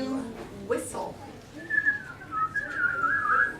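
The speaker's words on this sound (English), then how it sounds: "Humans have lips. So they are able to whistle." A person whistles a rising and falling tune in a classroom, the thin wavering notes following a brief burst of talk, moderately close and fairly quiet.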